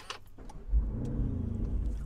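A 2021 Lamborghini Urus by Mansory with a modified exhaust starts up: a short whir and thump, then a deep, steady engine rumble settles into idle, heard close from inside the car.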